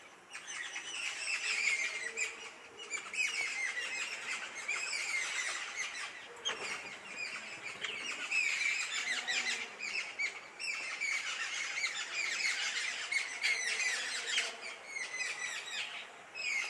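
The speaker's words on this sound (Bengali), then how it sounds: "তো আজকের কিচিরমিচিরগুলো শুনে মনটা ভালো হয়ে গেল" A lively chorus of birds chirps and squeaks without pause, many high calls overlapping nearby in an outdoor setting.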